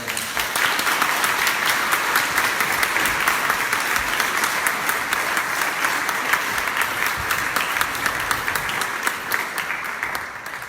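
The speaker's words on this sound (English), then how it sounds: "can I just ask you to applaud once more for Hannah's superb" An audience at an annual lecture and panel discussion claps loudly and steadily for about ten seconds, a dense, even stretch of applause with no talking.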